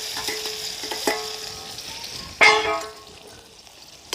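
Spices and garlic paste crackle and sizzle in hot oil as a tempering browns, a steady frying hiss with occasional stirring clinks and a louder burst of spattering midway.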